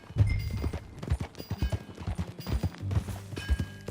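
Horse hooves clip-clopping at a riding pace in Red Dead Redemption 2, a steady rhythmic run of close, distinct hoof strikes with no talk over them.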